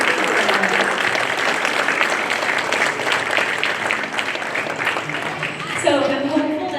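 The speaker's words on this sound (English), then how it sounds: "Can we give a round of applause?" An audience of families applauds after a third-grade student strings concert: continuous clapping at moderate level, then a voice speaks near the end.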